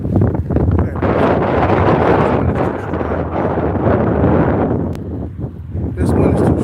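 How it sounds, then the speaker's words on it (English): Strong wind batters the microphone with loud, close, rumbling gusts that swell and ease over several seconds, with no clear talk. "This wind is too strong."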